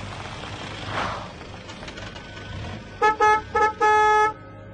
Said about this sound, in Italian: Avevo suonato il clacson